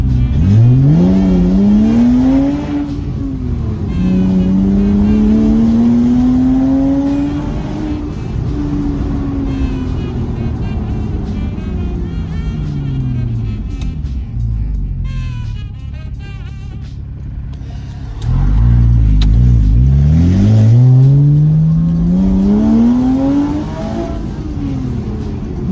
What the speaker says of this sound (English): have a real listen to the roar of this engine